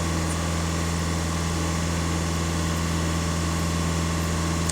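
A Skoda Octavia A7 2.0 TDI EA288 diesel engine runs at held high revs under full throttle, a loud steady drone with constant hum and no pauses.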